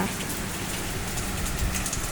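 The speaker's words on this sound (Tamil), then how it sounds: "எங்கள் ஊரில் திடீர்னு நல்ல மழை" Heavy rain falls steadily and densely, a loud, unbroken hiss of drops on surfaces close by, with no voices.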